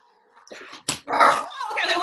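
Several children imitate dog growls and yowls during a read-aloud session, giving a short burst of rough, voiced snarling sounds from a group, with a sharp clap-like hit in the middle and livelier overlapping voices after it.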